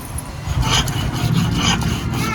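Spices are ground on a flat stone slab with a rolling stone, a steady close scraping and rubbing with gentle rhythmic strokes running throughout.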